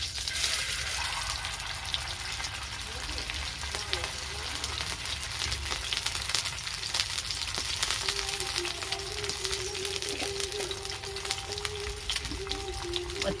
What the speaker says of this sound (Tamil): இங்கே இப்போ எண்ணெயை ஊற்றி நம்ம மீன் இறக்கிடுவோம்.